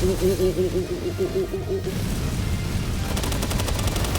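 Rapid gunfire bursts from shooting attacks in Palworld, loud and continuous over game music for about four seconds, with a denser volley near the end.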